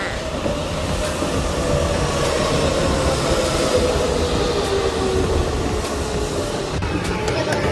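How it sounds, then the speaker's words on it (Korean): A train pulls into a station in Tokyo with a steady, loud rumble of rolling wheels and faint squeals, continuous throughout with no speech. "열차가 들어옵니다"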